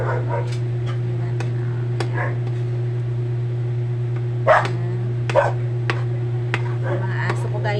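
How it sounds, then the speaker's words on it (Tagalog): Dogs bark in scattered sharp yelps outside on a rainy night, some distance off, over a steady loud kitchen hum while pork fried rice cooks. "Mga aso ko guys, nasa labas na naman sila"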